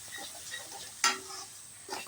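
Prawn curry with fried potatoes being stirred in a pan, Odia style: a soft, quiet scrape and faint sizzle, with a single sharper clink of the spoon about halfway through and a brief swish near the end.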